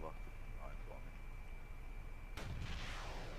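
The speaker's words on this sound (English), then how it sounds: "There's a lot of explosions going on over near the hospital." Explosions in the Arma 3 video game, with a sudden loud blast that rumbles and trails off, following a stretch of distant thuds and battlefield noise under a steady tone.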